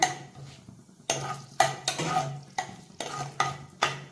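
Cinnamon, cloves, cardamom and other whole spices fry in a pan, with a soft sizzle broken by about seven sharp utensil scrapes and clinks against the pan, close with no talking.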